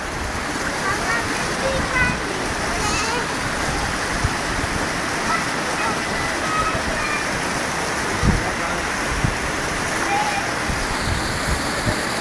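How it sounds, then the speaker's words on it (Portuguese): A waterfall cascades in a park with a steady, dense rush of falling water that stays loud and even from start to finish. "Mais uma cascata lá, ó."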